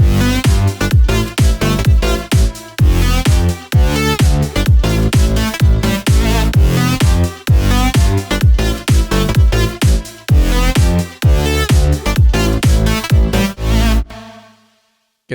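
A bright synth lead rides a full electronic dance mix with pounding, steady beats, stopping abruptly near the end and leaving a short fading tail.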